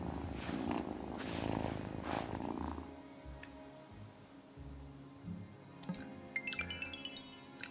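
A cat in the video game Wylde Flowers purring, a soft rhythmic rumble that is loudest at first and then fades under gentle background music with chiming notes.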